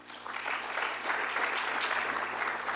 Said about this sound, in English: How about a round of applause for Dan?